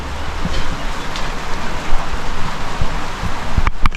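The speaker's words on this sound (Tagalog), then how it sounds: "Mainit pero umuulan." Rain falls steadily with a dense, hissing patter, fairly close and loud, with a few heavier drops and a brief rustle near the end.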